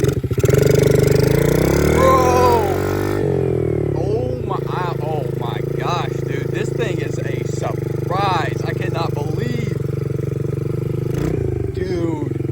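A small Amazon-bought mini dirt bike engine revs hard and loud up close, then settles into a lumpy, throbbing idle with rising and falling throttle blips, while someone talks over it.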